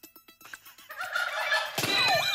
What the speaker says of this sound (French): un dindon.